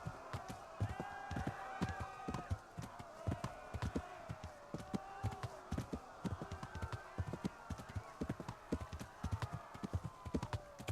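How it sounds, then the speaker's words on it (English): Horse hooves in the video game Kingdom Come: Deliverance gallop in a fast, steady clip-clop rhythm, loud and close, continuing throughout with faint voices underneath. "First person horse controls."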